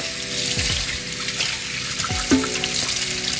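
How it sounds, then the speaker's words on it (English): Hot water gushes from a tap while terrarium decor for a PacMan frog setup is rinsed under it, a steady splashing stream broken by a few brief clunks and shifts as items move beneath the flow. "I'm going to use hot water just to get bacteria out of here."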